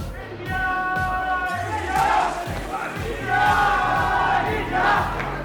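Home crowd at an armwrestling match in Mumbai roaring and chanting in loud, sustained swells, with rhythmic shouted bursts rising and falling over several seconds.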